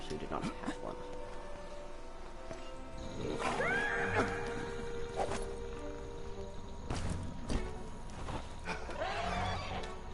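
A horse whinnies twice with a rising, wavering call in the Lego Hobbit video game, over busy game ambience, footsteps and voices talking in the background.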